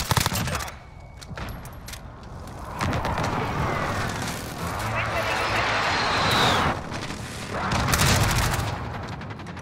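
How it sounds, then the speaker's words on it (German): Explosions and gunfire from an enemy precision airstrike in Call of Duty Modern Warfare, with several heavy blasts and crackling bursts spread across the clip, loud and dense, while a voice talks over the battle. "Feindlicher Präzisionsluftschlag."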